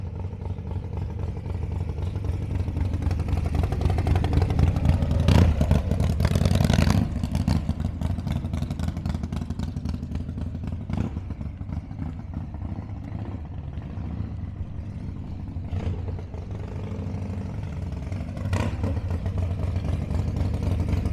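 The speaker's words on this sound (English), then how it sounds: "this is my 1992 Fat Boy Harley Davidson" A 1992 Harley-Davidson Fat Boy motorcycle idles with a steady low rumble close by, its engine swelling in several revs and falling back over about twenty seconds, with no one talking.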